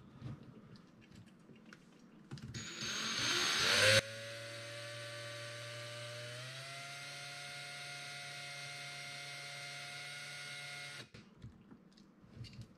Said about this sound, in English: it's going to create a hole for you to use your bigger drill bit to drill the rest of it out